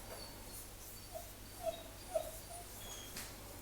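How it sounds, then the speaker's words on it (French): A small dog gives a few faint, high whimpers and whines, spaced apart over a soft hiss of room noise. "Ah, ce chien."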